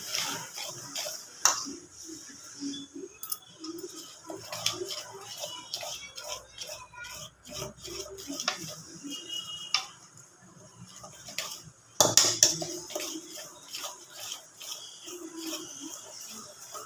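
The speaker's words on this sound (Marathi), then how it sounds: "चांगलं फेटून घ्यायचं विस्करने आणि थोडं हाताने फेटायचे" Gram flour batter for khaman dhokla is whisked in a bowl, giving rapid, light ticking and clinking against the sides, close and moderately quiet with irregular pauses.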